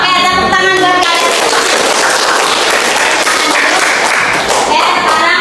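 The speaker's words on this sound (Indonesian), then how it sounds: "Oke, tepuk tangan buat kalian" A school class claps for itself, with dense, loud, continuous applause from many hands. A voice is heard briefly at the start.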